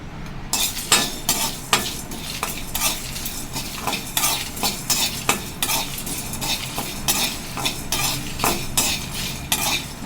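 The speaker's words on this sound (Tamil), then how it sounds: "ஒரு மிளகாய், சீரகம், கடுகு, சோம்பு, கருவேப்பிலை, பூண்டு, கொஞ்சமாக இஞ்சி, இது எல்லாமே இப்போ வறுத்து எடுத்துக்கலாம்" Dry roasting of chilli, cumin, mustard seeds, fennel, curry leaves, garlic and ginger in a pan with no oil, a close, steady run of spoon scrapes and stirring clinks with a light crackle of toasting spices, and no talking.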